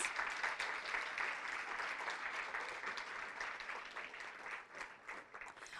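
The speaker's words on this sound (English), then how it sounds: "Let's give them a big round of applause." Sustained applause from an audience at a 2017 employee gathering, a dense steady patter of many hands clapping throughout without pause, fairly even in loudness with no voices standing out.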